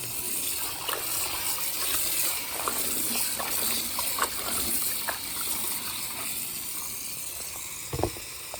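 Tap water runs steadily into a kitchen sink while mixed greens are washed with a drop of soap. The gushing is continuous and fairly close, with occasional small splashes and knocks and no talking.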